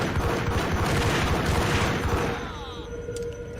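Rapid burst of gunfire from the video game Max Payne, dense overlapping shots and booms that crowd the start and then thin out toward the end.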